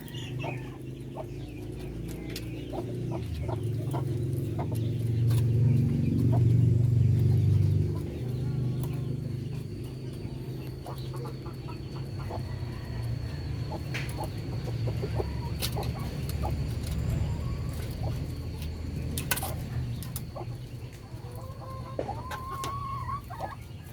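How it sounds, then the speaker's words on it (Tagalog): A large rooster and parawakan chickens in a backyard farm cluck and call repeatedly, with scattered sharp squawks and crows over a low steady background rumble that is louder early on. "Yan po yung ating malaking rooster."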